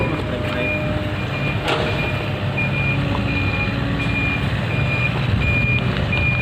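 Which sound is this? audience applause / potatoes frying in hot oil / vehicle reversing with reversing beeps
vehicle reversing with reversing beeps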